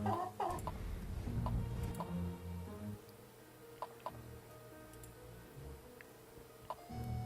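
A chicken clucks a few times in soft bursts in the video game Dark Tales: The Black Cat, followed by scattered light ticking sounds in an otherwise quiet space.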